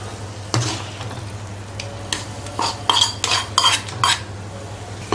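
Carrot halwa being stirred in ghee in a pan: a spoon scrapes and knocks against the metal in a quick run of clinks and rasps over a low hum, close and fairly loud, with no one speaking.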